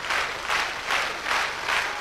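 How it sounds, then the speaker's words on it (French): A French TV studio audience applauds Joan Jett, the clapping swelling and easing in rhythmic waves about every half second, moderately loud with no talk. "Sous vos applaudissements, on la reconduit en coulisses."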